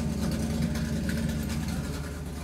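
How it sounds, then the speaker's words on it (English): A deep, heavy idling engine rumble fills a room, steady and continuous with a throbbing low hum and no breaks. "sort of like a big idling car makes its way into the room"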